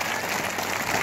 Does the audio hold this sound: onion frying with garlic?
no